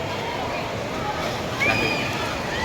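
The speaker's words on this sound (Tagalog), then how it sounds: "Ayan na yung mga malalaking alon" Large ocean waves wash and slosh at a beach at moderate distance, a steady broadband roar with a slight swell near the end, while people talk excitedly over it.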